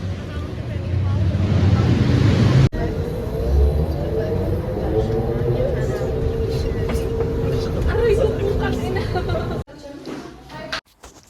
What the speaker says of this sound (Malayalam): ഇത് നമ്മുടെ ബസ് വന്നു